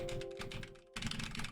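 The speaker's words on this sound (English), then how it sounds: "Here's what it would sound like if there were keyboard clicks" Computer keyboard typed deliberately hard, captured through a Shure MV7 microphone: a steady run of close, crisp key clicks over a low background hum, pausing briefly before the rapid clatter resumes.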